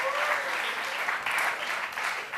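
A forum audience at an arts and entertainment industry event claps in a brief, steady round of moderate, even applause at a moderate distance.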